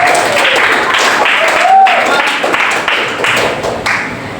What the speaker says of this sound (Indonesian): Terima kasih teman-teman, tepuk tangannya buat Mas